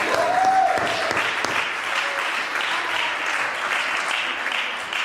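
A church congregation claps and cheers in a sustained, fairly loud wave of applause throughout, with a brief voice briefly rising above the crowd near the start.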